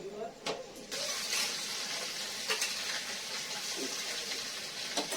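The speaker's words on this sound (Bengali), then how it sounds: "পনিরগুলো ভেজে ফেলি আগে তারপরে পনির ভাজার ওই বাকি তেলটা দিয়ে মশলাগুলো ভাজবো" Paneer pieces fry in hot oil with a steady broad sizzle and occasional clinks of a utensil, close by, while a person talks faintly in the background.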